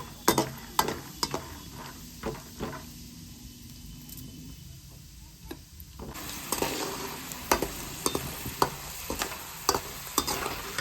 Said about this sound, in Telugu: ఇదే ఆయిల్లో పల్లీలు కూడా వేపుకోవాలి